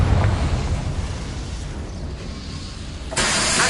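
Confringo, an explosive fire spell in Hogwarts Legacy on PS5, blasts with a dense, roaring burst that rumbles continuously and then swells into a fresh loud impact near the end, with no voices.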